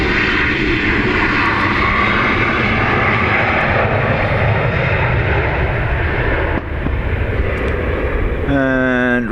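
Rescue aircraft taxiing at Dublin Airport: continuous loud engine drone, rumbling and steady, with a brief dip near the end followed by a rising chirping tone and a voice over it.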